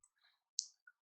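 Computer mouse clicks while setting up a new project in CapCut on a computer: two or three faint, crisp, very short clicks in near silence.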